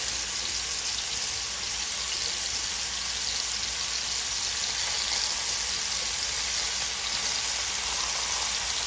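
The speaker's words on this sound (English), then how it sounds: "And now we're gonna go in with some sausage" Smoked Louisiana-style sausage sizzles steadily in a pot for Cajun jambalaya, a constant close crackling hiss with no talk.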